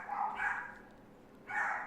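Puppies bark at home in two short, muffled bursts, somewhat distant and moderately loud, over a low background hum.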